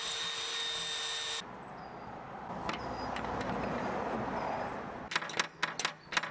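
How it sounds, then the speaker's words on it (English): Power drill boring a few holes through MDF to cut a handle-lever slot in a homemade gate; a steady whine at first, then rough grinding through the board, ending in short bursts. "I then need to cut a slot for the handle lever to go through, so I did that just by drilling a few holes."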